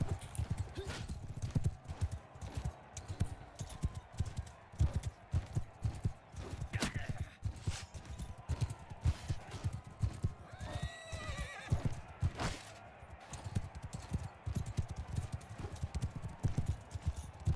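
Horses in the Mount & Blade II: Bannerlord battle gallop with steady clip-clopping hooves throughout, and a clear neigh rises midway amid the clatter of a busy mounted fight.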